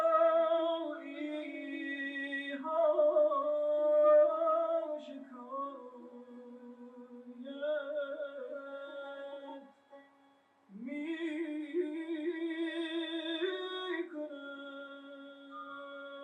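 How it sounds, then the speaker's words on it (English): A Persian reed flute (ney) plays traditional Persian music. Its long breathy notes glide between pitches in sustained phrases, with a brief pause partway through and then a stronger phrase. "This is the sound of the reed."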